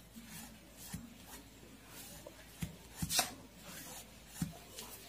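Colour being rubbed by hand onto paper: soft, dry scuffing strokes in a quiet room, with a few sharper brushing bursts and light taps spaced irregularly.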